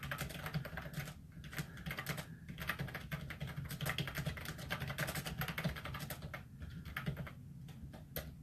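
Steady typing on a computer keyboard, with rapid clustered keystrokes and brief pauses between bursts, close and clear with no talking.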